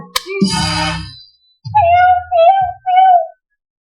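A human voice mimics a cat, one long drawn-out meow followed by two shorter meows, close and loud with brief pauses between.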